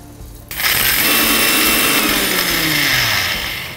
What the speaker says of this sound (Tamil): இதை வந்து கிரைண்ட் பண்ணிடலாம்